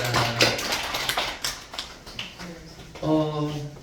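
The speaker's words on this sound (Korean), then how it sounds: "우리 하나님께 영광의 박수 올려드립니다" A church congregation claps at a Wednesday worship service at Pyeongtaek Haneulkkum Church: a moderate, scattered patter of hands that thins out, with a voice speaking over it and a sustained voice rising near the end.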